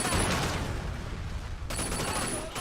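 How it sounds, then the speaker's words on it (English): Gunshots aimed at car tires in Sleeping Dogs, a loud booming blast that fades, then another sharp shot with a ringing tail about a second and a half later. "We got both tire shots."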